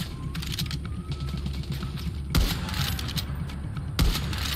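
Rapid bursts of gunfire in the video game Far Cry 6 crackle in the background, with two heavier shots standing out, over a low steady hum.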